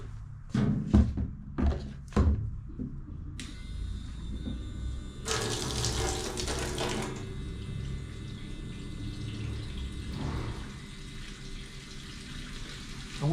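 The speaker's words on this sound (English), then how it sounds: "I just love this little pump." A small pump drains fluid from a Briggs and Stratton Storm Responder generator into a stainless steel pan, a steady close whir with liquid flow, preceded by a few sharp knocks and handling thumps.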